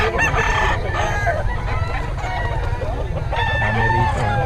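Chickens and a rooster at a poultry seller's market stall in Nueva Ecija, loud and close, with repeated crowing calls and clucking layered over a dense din of birds throughout.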